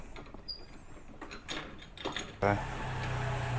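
Close ratcheting and metallic clicks as bolts are tightened on a top box mounting plate of a Honda PCX 160 scooter, a run of quick clicks followed by a louder, sustained mechanical rattle.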